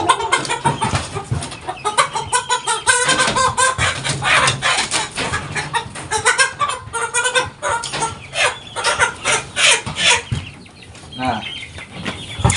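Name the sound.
kampung chicken clucking while being weighed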